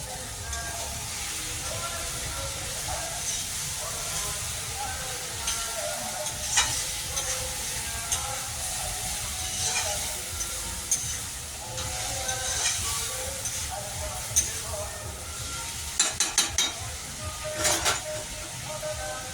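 Bottle gourd ghonto frying and being stirred in a pan, a steady close sizzle and hiss with scattered scraping clinks of the spatula against the pan throughout, without speech.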